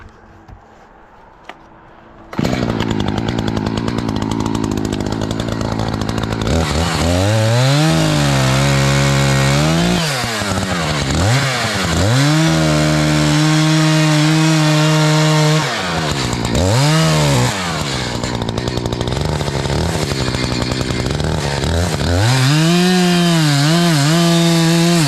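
Chainsaw cutting through a dead oak limb high in a tree, starting loud after a quiet moment and running steadily for over twenty seconds, with the engine pitch dipping and rising repeatedly as the chain bites into the wood.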